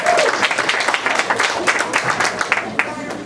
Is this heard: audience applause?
yes